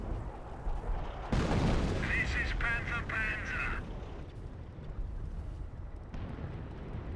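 Creeping artillery barrage in the Company of Heroes strategy game: loud, continuous rumbling explosions and gunfire, with a sharp onset and a dense roar that tapers into steady distant battle noise.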